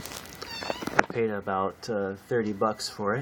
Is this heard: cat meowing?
yes